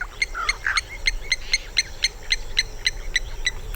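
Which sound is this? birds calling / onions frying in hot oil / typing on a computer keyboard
birds calling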